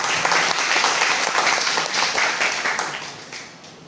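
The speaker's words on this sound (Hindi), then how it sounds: "तो मैं चाहूँगा कि आप लोग इनका तालियों से स्वागत करें" An audience at a college event in Sahibganj claps in dense, sustained applause to welcome a guest, fading slightly toward the end.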